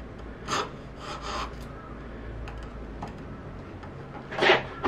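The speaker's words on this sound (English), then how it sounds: "Then you take a chisel and you work yourself in there" Hand chisel paring wood while shaping a half-blind dovetail joint, a few soft rasping scrapes close by, with a sharper, louder stroke near the end.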